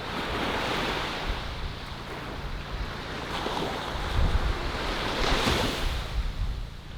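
Surf washing steadily onto a rather unattractive beach in Albania, a continuous loud wash of breaking waves with gusty wind buffeting the microphone and surges swelling near the end, no voices.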